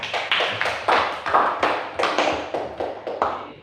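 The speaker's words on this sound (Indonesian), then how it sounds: "tepuk tangan dulu untuk anak-anak sekalian" Children in a primary school class clap their hands in a group. About a dozen loud, fairly regular claps arrive close together in a steady beat, with no voices over them.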